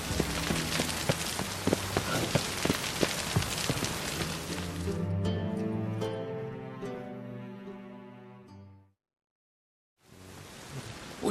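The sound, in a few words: rain falling, from video game The Witcher 3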